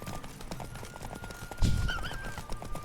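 In The Witcher 3, a horse's hooves clip-clop in a quick galloping rhythm, with a whinny cutting in partway through. The sound is close and fairly loud.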